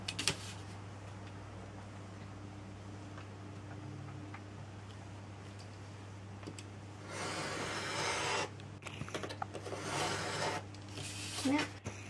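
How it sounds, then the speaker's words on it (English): Paper is trimmed from the edge of a divider page for a handmade leather notebook, making two short bursts of rasping, scraping cutting noise close by over a constant low electrical hum. "there's also a tiny bit of white there, so I'm going to trim that off as well."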